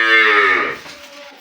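A Sahiwal cow on a farm lets out a single close, loud moo that falls in pitch and trails off within about a second.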